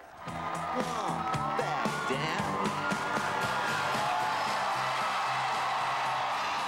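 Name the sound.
roaring crowd cheering at Hillary Clinton victory rally in Philadelphia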